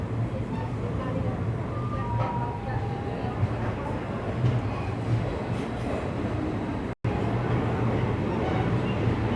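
An express train departing Kazipet Junction station, heard from on board as a continuous rumble with rail clatter and rhythmic wheel clicks, steady and fairly loud, broken by a brief dropout.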